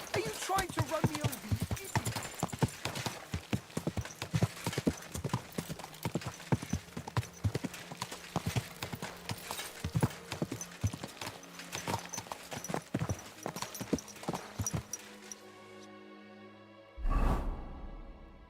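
Horse hooves in Kingdom Come Deliverance 2 clip-clop in a steady, fairly close rhythm that fades out near the end, with a brief whoosh and voices talking over it.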